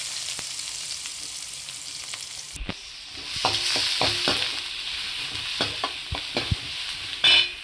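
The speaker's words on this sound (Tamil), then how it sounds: "கடுகு பொரிஞ்சோடனே நம்ம நறுக்கி வச்ச வெங்காயத்தை நம்ம சேர்த்துக்கலாம்" A loud burst as chopped onions drop into hot oil with spluttered mustard seeds, then steady close sizzling with scraping stirs and a few clinks of a utensil.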